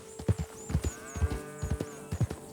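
Cattle lowing on a farm in Red Dead Redemption 2, several low moos repeating irregularly at moderate distance, with bird calls above and faint hoof-like knocks, no talking.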